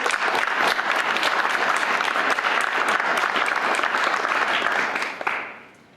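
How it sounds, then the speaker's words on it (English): Audience at an academic welcoming session on African American intellectual history gives a round of applause for a family: dense, steady clapping from a full room that holds for about five seconds, then tapers off quickly. "So if you could have a round of applause for the family."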